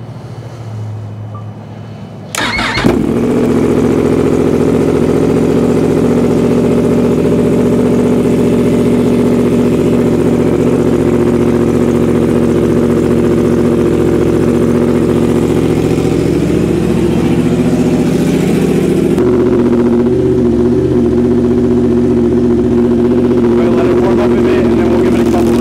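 A 2024 Yamaha R1 motorcycle engine with an SC Project CRT aftermarket exhaust fires up and idles with a deep, throaty rumble, holding steady, then shifts slightly in pitch later on; loud and close.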